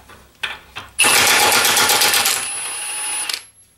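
A Milwaukee M18 FUEL 2763-22 high-torque impact wrench in low-speed mode 1 loosens a nut in one loud, sustained burst of rapid hammering lasting about two and a half seconds, preceded by a few light clicks.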